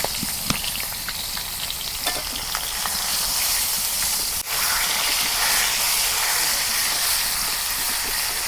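Pomfret fish fry in a pan for a village-style curry, giving a loud, steady sizzle and hiss close up, with a few sharp pops and one brief dip in the middle.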